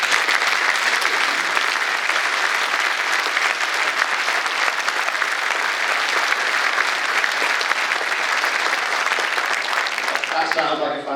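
Sustained, dense applause from a room full of football supporters at a Blackpool FC fans' meeting, steady and loud for several seconds before tapering off at the very end.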